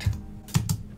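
A few quick keystrokes on a computer keyboard, close and crisp, with three or four distinct taps within a second and no talking.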